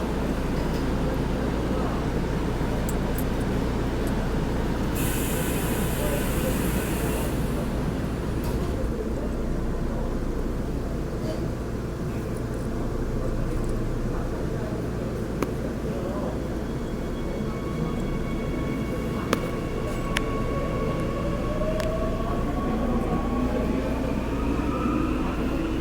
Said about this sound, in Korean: 열차 출발했습니다. 출발했습니다.